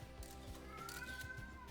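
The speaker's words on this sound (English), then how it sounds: "Oh yeah, that's my cat. And she is begging." Quiet, drawn-out meowing from a pet cat begging for dinner, a thin rising cry set against a faint busy background in a horse-racing anime game scene.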